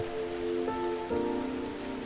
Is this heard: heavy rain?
yes